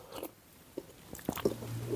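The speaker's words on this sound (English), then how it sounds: "Sorry about the slurping, but you got to do it" Coffee being slurped during a tasting of the same bean from two different roasteries, a few short close wet sips and mouth sounds in quiet surroundings.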